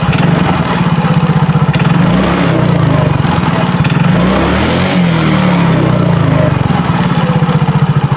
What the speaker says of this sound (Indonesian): Coba saya tarik gas.